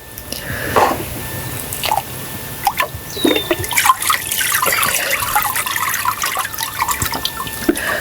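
Water sloshes and trickles in a papermaking vat as it is agitated to mix abaca pulp fibers, with irregular splashes and drips close by, building to a steady wash of liquid noise.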